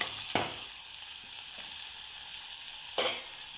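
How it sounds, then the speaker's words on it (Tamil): Onion, green chilli and ripe tomato sauté in a hot pan with a steady bright sizzle, broken by a few sharp stirring scrapes near the start, middle and end; no voices. "சேர்த்துட்டு இதை நல்லா வதக்கி எடுத்துக்கலாம்"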